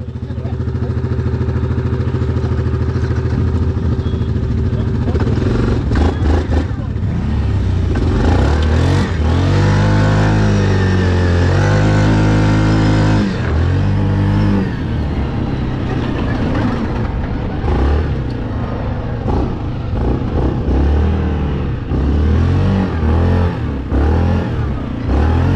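A Yamaha Grizzly ATV engine roars loud and close, idling roughly, then revving hard with a rising, sustained pitch in the middle before dropping back to an uneven, throttle-blipping rumble.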